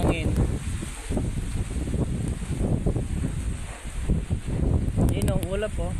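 Strong typhoon wind gusts roaring continuously across a farm, loud and broadband, with voices talking underneath.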